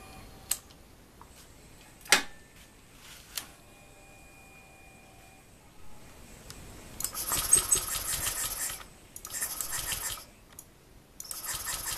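A Honda Vario 150 scooter fitted with a new ECU is cranked: sharp isolated clicks and ticks, then several ragged bursts of starter whirring and sputtering engine noise that fail to settle into a steady idle, with no talk.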